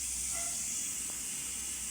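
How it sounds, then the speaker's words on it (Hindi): Steady, dense hiss of a tempering of spices for dal sizzling in hot oil, continuous and fairly close, with no voices. "ये दाल का जो मैंने वो तड़का लगा रही हूँ ना, ये उसकी आवाज़ है"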